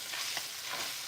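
An onion mix sizzling and frying in a hot pan, a steady close hiss with faint stirring scrapes, no talking.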